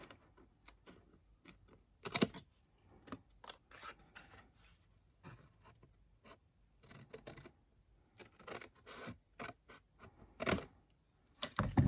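Scissors cutting card along a score line, a series of quiet, irregular snips and crisp paper rustles close by, with a louder cut near the end.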